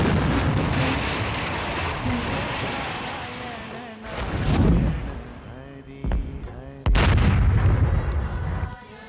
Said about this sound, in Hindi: दूर से कहीं विस्फोट की आवाजें आ रही हैं। शायद ये ऊपर ग्लेशियर टूट रहे हैं।